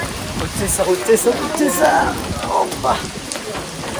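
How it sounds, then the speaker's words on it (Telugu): Rain pours down steadily in Meghalaya, a dense hiss of drops hitting surfaces close by, while a person speaks briefly over it. "వర్షం పడుతుంది గాయ్స్"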